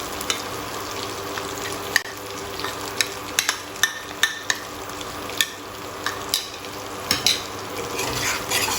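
Stuffed brinjals frying in oil on a jowar-stalk fire, a steady sizzle with repeated sharp clicks and scrapes of a spatula stirring, close and alone without talk.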